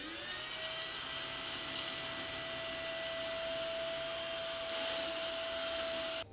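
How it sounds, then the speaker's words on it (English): A robot vacuum runs steadily nearby cleaning up a mess, a constant whirring drone with a high steady tone that cuts off at the end. "Nothing the robot vacuum can't take care of"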